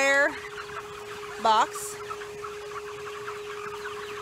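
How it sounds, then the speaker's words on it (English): Chickens on a farm around a wooden perching box, a couple of short clucks and squawks heard close by over a steady low hum, with a brief spoken word. "Chickens can sit on top of it and perch."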